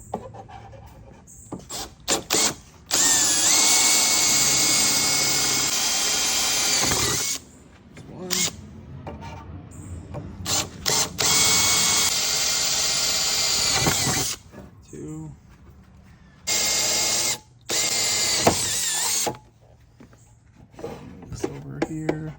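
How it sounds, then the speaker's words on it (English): A 1/4 inch bit bores into wood with a loud power drill, whining in several long bursts separated by short pauses and brief gaps of quiet, while mounting a Maverick EZ-7000 automatic door opener. "So 1/4 inch drill bit works great. I'm just gonna go ahead and drill in here and get this prepped up."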